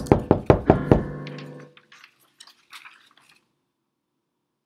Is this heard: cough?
no